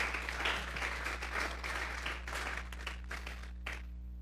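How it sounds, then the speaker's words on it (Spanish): A church congregation gives the Lord a strong round of applause during a sermon on Psalm 31, steady clapping heard faintly over a low hum and tapering off near the end. "Vamos a darle un fuerte aplauso al Señor esta tarde."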